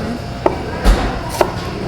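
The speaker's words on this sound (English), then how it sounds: "basically, you cut the onion very thinly." A knife slices onion very thinly on a cutting board for an onion confit in a Portuguese cod dish. A few crisp, separate cuts are spaced through a quiet moment with no talk.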